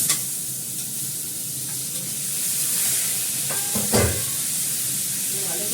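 Onion, potato and broad beans frying in a pan after the dal tempering with cumin, a constant hissing sizzle close by, with a couple of stirring scrapes and clinks near the end and no speech.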